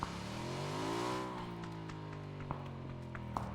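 A motorcycle engine in the video game PUBG: Battlegrounds hums close by, its pitch rising and then easing off, with a few sharp taps and clicks over the steady drone.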